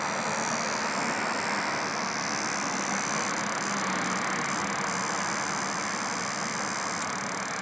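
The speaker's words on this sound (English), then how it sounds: "Well, that's a cicada." A cicada buzzes in a continuous, even, high-pitched rasping drone that stays at a steady moderate level throughout, with no voices.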